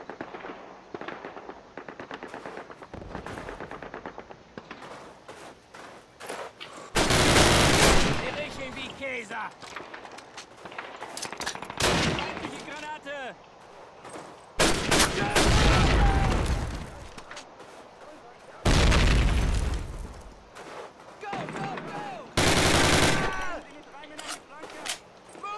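Loud bursts of gunfire and explosive blasts in Call of Duty: United Offensive come in several dense clusters separated by quieter stretches, with someone talking in between.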